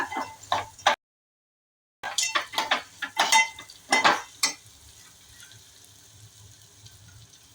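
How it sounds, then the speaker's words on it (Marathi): Crushed dried lentil dumplings (sandge) sautéed in a pan for Kolhapuri-style amti, with a spoon scraping and clinking against the pan in a run of sharp strokes, a short pause, then a faint sizzle trailing off. "सांडगे टाकणार आहे बारीक केलेले। जरा परतून घ्यायची त्याच्यात।"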